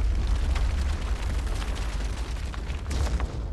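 A boulder crashes into a stone building in the video game The Forgotten City, heavy rumbling impacts and a deep continuous roar of collapse, with a fresh burst near the end.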